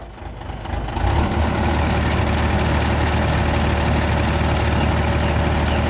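An ACE 20-ton crane's heavy diesel engine, with a faulty hydraulic pump, climbs from a lower idle into a steady, loud revving drone that holds for several seconds, close by with no talk over it.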